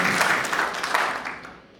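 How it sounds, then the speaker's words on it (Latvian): An audience applauds at the 50th anniversary dance concert of the Ozolnieki ensemble, with dense, close clapping that gradually thins and fades out toward the end. "sūtam viņām arī abiem diviem aplausus"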